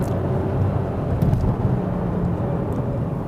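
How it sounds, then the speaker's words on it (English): A 2015 Porsche Boxster S PDK engine drops from 5th to 3rd gear in a steady, loud, broadband low rumble with a slight swell in the middle, heard from inside the car with no talking. "Listen to these downshifts."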